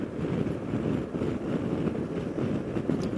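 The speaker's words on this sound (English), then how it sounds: "if you wanted to get rid of some of that slipstream noise, some of that buffeting, go to a taller windshield" Wind buffeting and slipstream roar while riding a Piaggio BV350 scooter at speed, a dense, low, continuous rumble with irregular gusty pulses and no voices.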